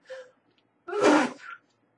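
A single sneeze, preceded by a short sharp intake of breath, close and loud against silence.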